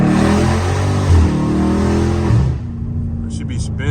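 A Dodge Scat Pack's engine revs loudly up close with rough harmonic surges, then drops off abruptly near the end, leaving quieter rumble and a few short crackles that could be exhaust pops.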